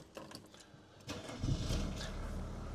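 A Mercedes-Benz W124 300D with an inline six-cylinder diesel turns over and settles into a steady running rumble that swells after the first second and stays close and loud.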